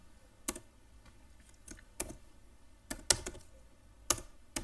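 Sparse, irregular key clicks from a computer keyboard as Python code is typed, close and fairly quiet, coming in separate taps and short bursts with no talking.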